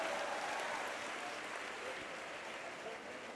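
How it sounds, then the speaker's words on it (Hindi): An audience at a political speech event applauds. The clapping is dense and sustained, fairly distant, and tapers slightly over a few seconds. "बहुत अच्छा, जोरदार ताली बजाओ हमारे भाई के लिए"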